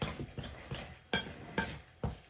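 Whole grain cereal bread dough is stirred in a bowl with a heavy spoon, giving about six close, rhythmic scraping strokes spaced roughly half a second apart, with no voices.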